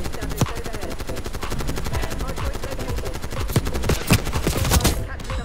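Rapid automatic gunfire from the Black Ops 6 video game rattles continuously through the whole stretch, with a few louder single shots and a helicopter-like drone mixed into the dense game soundscape.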